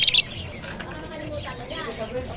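Birds chirp and tweet among a busy crowd murmur at the Malabon pet market, with a bright burst of calls at the start and scattered softer chirps after.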